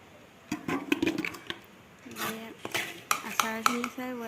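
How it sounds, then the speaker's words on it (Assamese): Mango and chili pickle is spooned into a jar in a home kitchen, with scattered clinks and scrapes of a spoon against glass, close and moderately loud, in irregular bursts. "এতিয়া বৈয়ামত ভৰাই দিব লাগে।"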